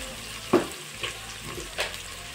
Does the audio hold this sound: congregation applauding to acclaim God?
no